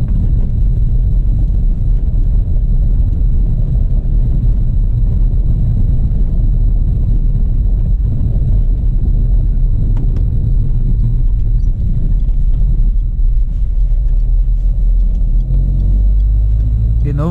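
A Peugeot 307 drives down a street during a shock absorber test, giving a continuous low road rumble and engine drone from inside the car, with occasional bumps and faint voices.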